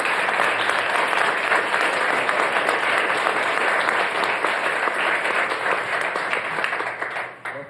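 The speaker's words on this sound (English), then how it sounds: "Please give these folks a round of applause." A council chamber audience gives a full round of applause at a city council meeting, loud and continuous dense clapping that tapers off at the close, with almost no talking.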